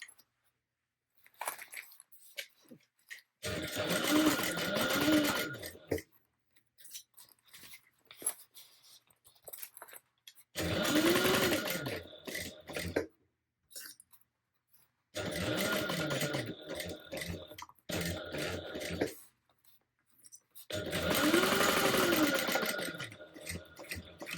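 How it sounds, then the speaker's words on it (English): A sewing machine basts handbag pieces together in four separate bursts of stitching, each a few seconds long, fairly close and moderately loud, with quiet pauses and faint handling sounds between runs. "So I'm just basting everything together."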